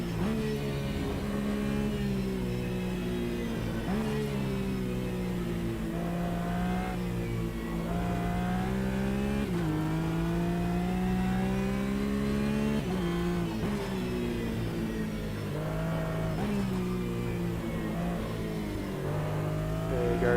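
A race car engine in the Automobilista 2 sim game lapping Bathurst screams continuously, rising through the gears and dipping on repeated upshifts and throttle lifts, loud and steady with no talking.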